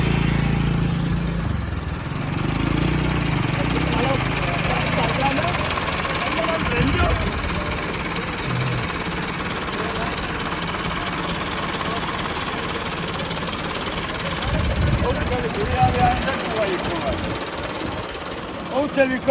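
An excavator engine runs near a flooded river where a tractor trolley has been swept away, a steady loud mechanical drone throughout with bursts of water rush and voices talking over it.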